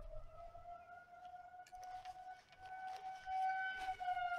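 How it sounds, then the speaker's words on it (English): Outdoor civil-defense warning sirens on a monthly first-Wednesday test wail steadily in the distance, a sustained rising and falling tone that swells slightly toward the end over a faint rumble. "Excuse the sirens."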